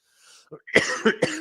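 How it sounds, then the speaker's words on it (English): A person gives a short burst of several harsh coughs in quick succession, close and loud, with a faint breath before them. "I got a little bit of a cough already"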